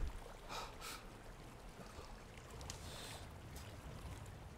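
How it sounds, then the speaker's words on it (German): Flowing river water in Resident Evil Village, a steady broadband wash and trickle running evenly throughout at moderate distance, with no talk over it. "Okay, ein Fluss."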